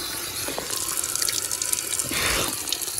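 Water pours steadily from a public fountain in the centre of a Balkan village, a close, continuous splashing hiss that briefly swells louder near the end, heard alone without speech.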